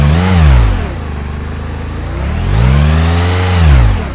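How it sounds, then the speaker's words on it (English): A simulated car engine in an Electude training simulator revs up twice, the pitch climbing, holding briefly and falling back each time, loud and smooth with no other sounds. "So if I were to rev the engine up, you'd see both signals changing."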